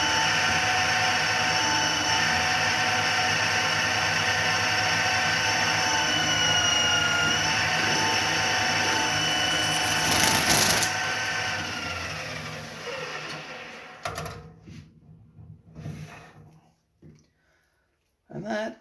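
Manual lathe turning a 54mm urethane skateboard wheel of 98–99A hardness in the Spitfire Classic shape, a loud steady droning whine with tonal harmonics for about ten seconds, then tapering off into intermittent bursts and short gaps as the cut ends.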